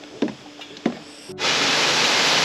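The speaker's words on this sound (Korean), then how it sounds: "폭포 소리가 들리는 듯 해요." A waterfall roars steadily on a wooden deck trail descending a mountain after recent rain, a loud broadband rush that begins abruptly after a couple of faint knocks and then continues evenly.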